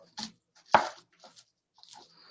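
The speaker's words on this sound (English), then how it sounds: "when we're cutting up the onions, I try to make sure to really get these outer layers off" Knife chopping onions on a cutting board, a few separate crisp cuts with quiet pauses between them, close and clear, no talk.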